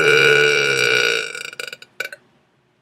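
A long, loud, drawn-out belch from a young woman, close and resonant, fading into a few shorter broken gulps and clicks before silence.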